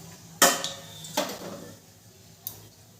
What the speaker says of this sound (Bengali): ফোড়নটাকে একটু নেড়ে দেবো